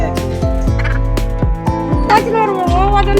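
A desi chicken being held for slaughter gives a rapid series of loud, close, rattling gobble-like squawks, harsh and agitated, repeating almost without pause.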